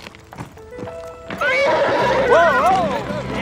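A stallion kept with another stallion lets out a loud, wavering whinny close by, mixed with hoof clatter and other movement, while people speak over it.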